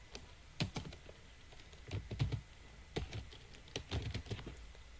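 Steady typing on a computer keyboard while entering a command during Debian 12 DNS setup, irregular close clicks in quick runs and pauses, quiet and without speech.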